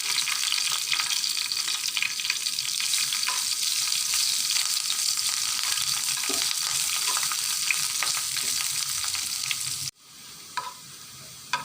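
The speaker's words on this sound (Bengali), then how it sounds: "এই যে পেঁয়াজ মরিচ লাল লাল করে ভাজা হয়ে গেছে" Garlic, onion and chili frying in oil for a green bean mash, a steady close sizzle with occasional stirring scrapes, continuous and fairly quiet before a brief dip near the end.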